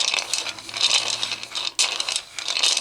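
Hebrew rune tiles shuffled by hand for a reading: continuous clattering and scraping of small hard pieces rubbing together up close, with a short pause near the middle before the shuffling resumes.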